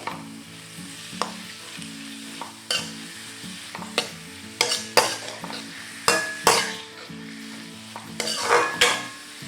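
Onions sauté in a hot pan for a chickpea rice dish: a constant low sizzle broken by sharp metallic scrapes and clinks of a spoon stirring against the pan, irregular and close, with no speech.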